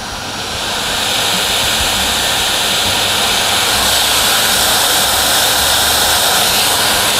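The CPU and GPU fans of an Acer Nitro V 15 gaming laptop roar at full speed in a steady, loud whooshing rush that rises slightly and then holds constant, with no talking.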